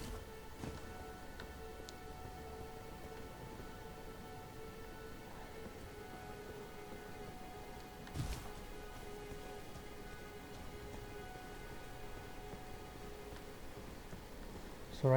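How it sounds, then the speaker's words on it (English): Steady soft rain patters through a gameplay scene in the video game Elden Ring, a faint, even hiss with one brief louder crackle midway and no talking. "So right now it's raining,"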